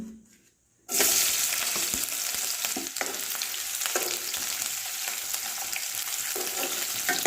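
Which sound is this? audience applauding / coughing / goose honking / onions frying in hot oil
onions frying in hot oil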